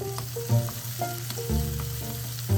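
Ingredients sizzle and fry in olive oil in a pan, with bacon and Vietnamese chilies among them. A steady close crackle runs throughout, with occasional stirring clinks and no talking.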